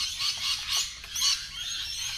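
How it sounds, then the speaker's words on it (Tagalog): Birds chirping and calling in bursts at a campsite in Australia, fairly high and a little distant, over a quiet outdoor background. "Ingay ng mga ibon."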